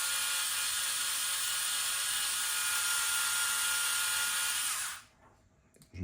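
A power screwdriver drives screws into a helicopter skid with a steady, loud high whir lasting about five seconds before cutting off into near silence.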